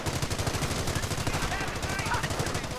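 A machine gun rattles in rapid, steady bursts in a World War II video game, loud and continuous, with a faint voice underneath.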